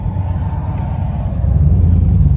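Deep, steady exhaust rumble from a Saleen 2-valve Mustang fitted with louder mufflers and exhaust clips, close and loud, swelling slightly toward the end.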